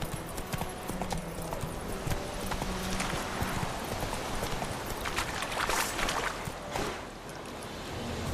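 Roach, a horse in The Witcher 3, gallops steadily with rapid, continuous hoofbeats close by, layered over game ambience and water-like background noise, with no talk.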